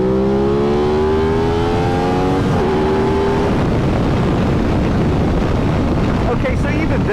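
An Aprilia RS660 motorcycle engine revs hard from about 6,000 rpm with rising harmonic tones, quickly buried under loud, blustery wind rush as the bike accelerates.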